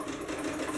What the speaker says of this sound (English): So just continue on with your zigzag stitch.